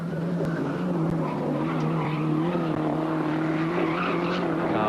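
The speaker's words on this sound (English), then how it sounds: "he's got the Starion wound flat out" A Mitsubishi Starion race car howls past flat out at a 1986 circuit race, its steady engine drone loud and continuous with a faint tyre squeal, no talk over it.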